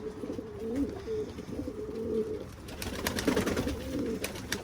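Pigeons coo softly in an office coop on a sunny, cool morning, a steady murmur of overlapping low coos with occasional wing flutters and scratchy rustling nearby.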